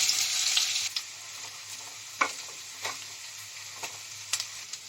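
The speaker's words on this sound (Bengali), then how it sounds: "পেঁয়াজটা আমার ভাজা ভাজা হয়ে গেছে" Onion fries in hot oil in a pan while cooking a bombay duck fish kebab. A steady, close sizzle fills the clip, with scattered spatula clicks and scrapes as the onion is stirred.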